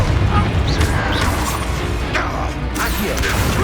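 Fiery Confringo blast spell explodes in Hogwarts Legacy combat, booming and crashing loudly amid a dense, continuous din of battle effects with several sharp impacts.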